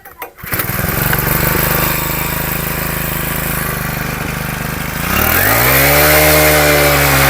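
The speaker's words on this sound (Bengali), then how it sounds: "এক ক্লিকে স্টার্ট নিল আমাদের এই আশি সিসি মিনি পাওয়ার টিলার" An 80cc mini power tiller engine runs loudly and steadily while ploughing, a constant close buzzing drone that shifts pitch partway through as the load changes.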